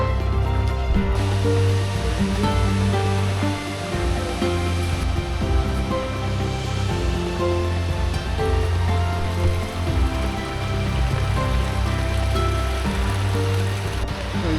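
Water from a hidden waterfall in Simlipal Tiger Reserve, India, rushes in a constant, loud, close roar with no break across the whole stretch.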